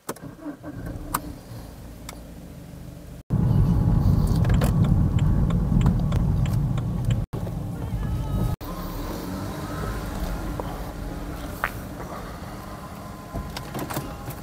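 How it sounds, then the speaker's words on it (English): A BMW E91 estate on a road test, with a steady engine and road rumble that swells into a louder, heavier roar midway before settling back to a moderate cabin drone. "Now we're going to take it for a test drive and see how it goes."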